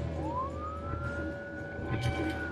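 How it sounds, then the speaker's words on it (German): A police car siren in the video game Battlefield Hardline rises in pitch and then holds a long wail, moderately faint beneath engine rumble and other game noise. "Das ist der Sound der Police."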